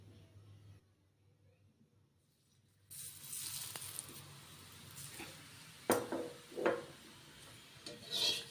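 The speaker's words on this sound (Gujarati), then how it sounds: "તો આપણે તેલ એડ કરીશું" Oil goes onto a hot griddle under a green pigeon pea paratha on medium gas, bringing a faint, close sizzle with scattered rubbing and scraping bursts after a quiet start.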